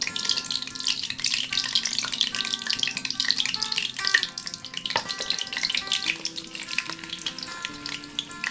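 Onions fry in a pot for a black turtle bean dish, producing a continuous bright sizzle with bubbling and occasional clinks of stirring, close and fairly loud with no voices.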